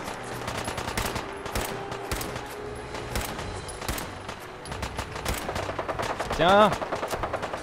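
Rapid gunfire in the video game Fallout 4, dense volleys of sharp shots throughout with a louder burst near the end, and someone briefly speaks over it.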